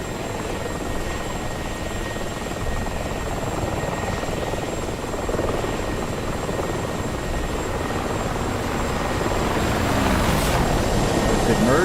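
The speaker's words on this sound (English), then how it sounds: "there's the Apache coming in" An AH-64 Apache helicopter approaches in the DCS World combat flight sim, its rotor and turbine roar loud and steady throughout, building slightly near the end, with a constant high whine on top.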